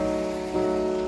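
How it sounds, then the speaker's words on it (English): Steady rain falling constantly outside, a dense even hiss with a faint tonal hum running through it, no talking. "This has been it for the last 3 weeks. Just rain, constantly."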